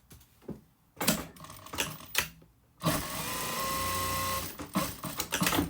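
Sewing machine stitching darts into the back of a pencil skirt, short bursts of running stitches broken by brief pauses, then one long steady run in the middle before more short bursts, close and loud.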